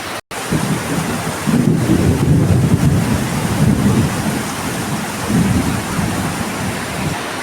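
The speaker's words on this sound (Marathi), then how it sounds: "पनलीचं पाणी किती वाहतं आहे बघा एवढा जोरदार पाऊस पडतोय" A heavy monsoon downpour roars over rice paddies in the Konkan countryside, with rumbling thunder swelling beneath a steady hiss of rain and gusty wind buffeting the microphone, loud and continuous after a brief cut at the start.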